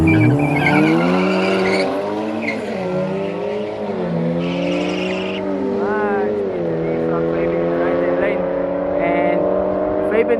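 Race cars rev and squeal their tires at Killarney race track, engine notes rising and falling loudly with bursts of squealing, while a commentator talks over the action throughout.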